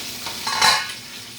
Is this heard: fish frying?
yes